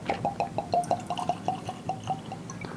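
Still Austin Red Corn whiskey pouring from a freshly opened bottle into a glass, a quick run of bright, evenly spaced glugs and drips, close and clear with no talking.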